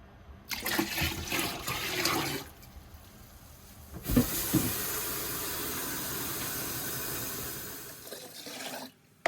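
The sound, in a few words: water being poured into a container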